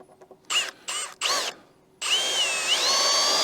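A power drill drives 2.5 to 3-inch screws into treated timber, giving three short whirring bursts followed by one longer sustained spin with rising pitch, close and loud.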